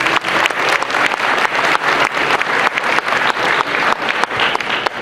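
An audience claps warmly to welcome the presiding couple at a festival gathering, dense sustained applause from many hands filling the room at close range, with no speech over it.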